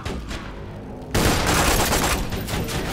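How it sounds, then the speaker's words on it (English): Rapid autogun fire from turrets in the video game Borderlands 2, a dense, continuous burst of shots that jumps louder after about a second and keeps hammering steadily to the end. "Autoguns wrecking things!"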